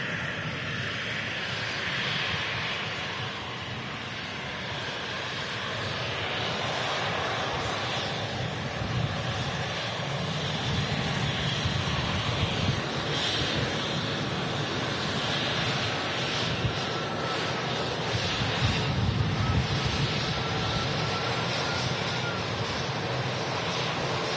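A jet aircraft rolling and braking hard on the runway at Manchester Airport, a loud, steady broadband engine roar with wind-like rushing that holds throughout without fading.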